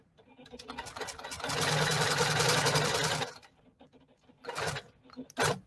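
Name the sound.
long arm quilting machine stitching fabric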